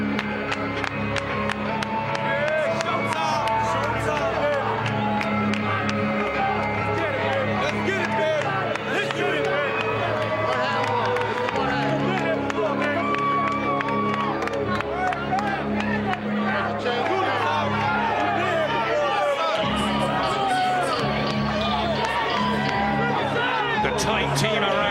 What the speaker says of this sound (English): Just listen to the reaction that Shane Mosley will get when the crowd can see him for real.